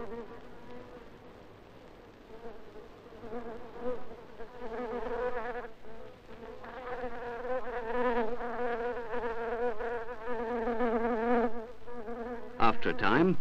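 A bee fed sugar solution buzzes steadily and close, a sustained droning whine that swells and wavers in pitch for several seconds with no voices.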